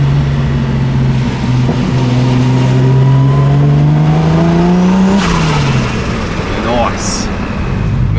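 A turbocharged car accelerates with the engine note rising steadily and a turbo spooling up before the revs drop and climb again, loud and heard from inside the car, with people talking over it.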